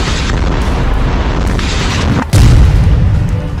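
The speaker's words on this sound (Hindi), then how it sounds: "इजरायल ने हवाई हमला कर डाला। जाहिर है ऐसे धमाके में कोई जिंदा नहीं बचा होगा।" Explosion from an Israeli airstrike on Hamas fighters, a loud boom that hits hard partway through and leaves a heavy low rumble after a stretch of noisy, dense background.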